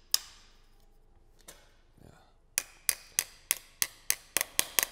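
A TOX attack nail dowel is driven into a hole through an installed component: a few isolated sharp taps, then a fast run of about nine evenly spaced ringing hammer strikes, close and crisp.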